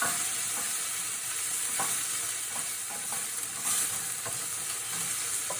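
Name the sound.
pasta sizzling in pan while stirring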